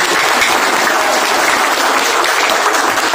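Loud, dense applause from an audience at a meeting, a continuous wash of many hands clapping at once, sustained for a few seconds with no break.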